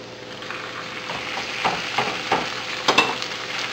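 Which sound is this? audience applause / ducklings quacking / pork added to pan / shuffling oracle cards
pork added to pan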